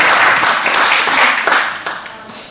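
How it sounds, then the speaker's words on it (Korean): A small indoor gathering claps together after being asked to, a brisk burst of hand clapping that tapers off over a couple of seconds, with a bit of murmured voice mixed in. "자, 박수 한번 쳐주시죠."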